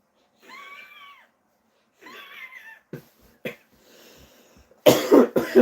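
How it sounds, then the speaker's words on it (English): A couple of strained, wheezy vocal sounds, then sharp throaty coughs ending in a loud burst of coughing up close. "Made myself cough doing that."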